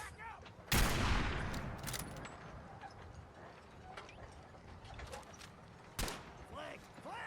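Gunfire during a gunfight in Fallout 4: a loud burst of shots followed by scattered shots and echoing reports, with a second sharp blast later over a busy battle background.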